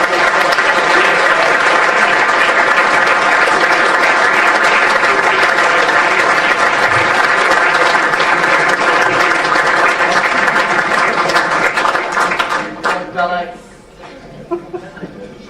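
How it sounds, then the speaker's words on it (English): Loud, sustained applause fills a room at a Doncaster end-of-season awards night as Elliot Lee collects the goal of the season award, with cheers and a few voices mixed in before the clapping thins out near the end. "your warm applause for Elliot Lee"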